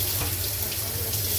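Tap water runs steadily into a kitchen sink during cleanup after cooking mung beans, a continuous close rushing splash with no talking over it.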